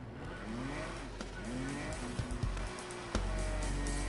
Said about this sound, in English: You can hear my engine.